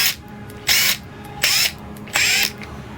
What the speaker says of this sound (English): this drill is the DTD 172 from Makita with 4 different torque settings